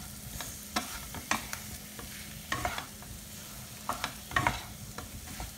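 Potatoes with a dollop of ghee sizzle in a pan while a spoon stirs them, giving irregular scraping clatters over a steady frying hiss.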